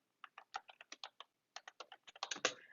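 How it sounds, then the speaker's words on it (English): Rapid keystrokes on a computer keyboard come in two bursts of quick, close clicks, separated by a brief pause, with the final taps running together slightly louder. "I am typing, right?"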